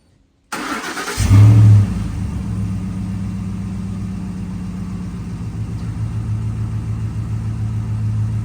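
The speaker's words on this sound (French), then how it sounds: "je vais vous le démarrer, histoire que vous entendiez même le ralenti, cet énorme V8 qui est incroyable" A big V8 car engine cranks and fires up with a loud initial rev, then settles into a deep, steady, rumbling idle that continues to the end, with no talking.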